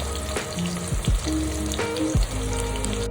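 Onion and bay leaf frying in two spoons of oil in a kadai, a close, steady crackling sizzle with a few louder stirring scrapes, no voices over it.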